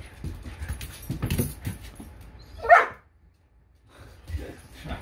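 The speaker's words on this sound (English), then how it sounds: "It's barking now." A playing puppy gives a single sharp bark, close and loud, after a stretch of soft rustling and scuffling, then a quiet pause before faint movement returns.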